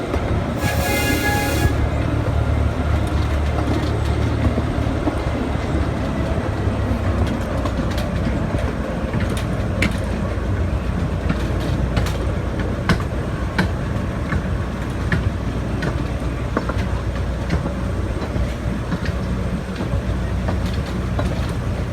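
An amusement park train at Blackpool Pleasure Beach rolls past with a steady rumble and clatter of wheels, a brief high horn-like tone near the start, continuing for a long stretch.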